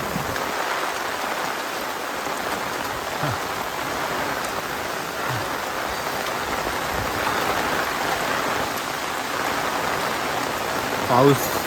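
Steady, dense hiss of heavy monsoon rain pouring down continuously near a dam, with a brief faint voice near the end.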